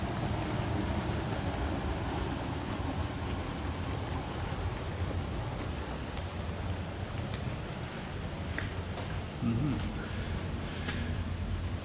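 Floodwater on the River Cherwell pouring fiercely around a lock overflow, a loud, continuous rushing roar with wind buffeting the microphone and no break in the flow.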